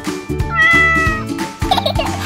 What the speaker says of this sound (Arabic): دعونا نحضر القطط لمنزلهم الجديد